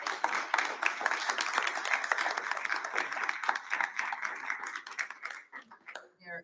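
Audience applause at a public school board of education meeting, a sustained round of clapping from a modest crowd that holds steady for several seconds and then tapers off.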